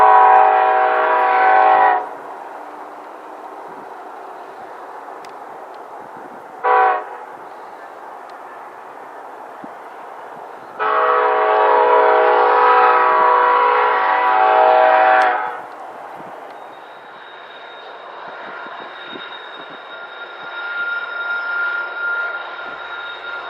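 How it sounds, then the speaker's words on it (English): BNSF southbound coal train led by two SD70ACe locomotives passing through Greenland, Colorado on the Joint Line, with loud harmonic horn blasts, a short toot, then a long horn, over steady rumbling railcars rolling by close. "A southbound BNSF coal train passes through Greenland, Colorado."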